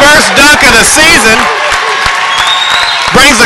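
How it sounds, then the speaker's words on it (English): A high school boys basketball crowd in a gym roars and claps after a dunk, a loud, dense wash of cheering that runs throughout under a commentator talking. "Brings the crowd to its feet here."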